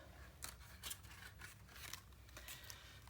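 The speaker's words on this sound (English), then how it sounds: "Now I cut some strips" Scissors cut strips of paper for a mini album craft, making several faint, close, rhythmic snipping strokes in a quiet room.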